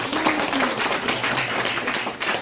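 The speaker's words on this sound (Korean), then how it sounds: "두 분들을 박수 한번 칩시다." Audience applause at a prayer meeting held at a unification observatory, loud, continuous clapping from a crowd that stays dense throughout, with faint voices mixed in.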